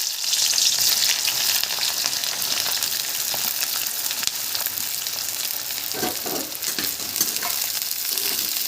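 Onion and green chili hitting hot leftover oil in a pan for homemade chili chicken, giving a loud, steady sizzle with crackling spatters close by, joined later by some stirring scrapes.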